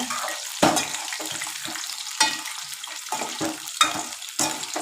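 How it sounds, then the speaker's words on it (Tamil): Cut eggplant frying in hot oil in a pan for a kattarikai kuzhambu, a steady sizzle broken by repeated scraping stirs, close and loud with no talking. "கத்திரிக்காய் போட்டுக்கலாங்க கத்திரிக்காய் நல்லா திருப்பி விடுங்க"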